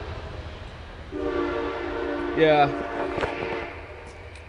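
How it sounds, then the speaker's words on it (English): A passing train's horn blows a long, loud, steady blast, rising briefly in the middle, over a low rumble, with a short spoken word from a nearby person. "we got a wonderful, wonderful thing here. It's called the train."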